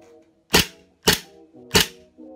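Azimuth FNX45 airsoft pistol, upgraded, fires three sharp, dry snaps spaced about half a second apart, close and clear against a quiet background.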